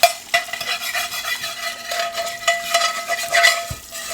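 A metal spatula scrapes repeatedly across a cast iron pan, with rough rhythmic strokes and light clinks close up, some faint sizzling behind.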